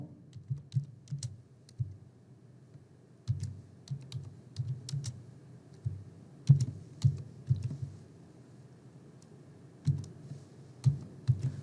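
Steady typing on a computer keyboard, irregular bursts of close key clicks with brief pauses, alone without talk.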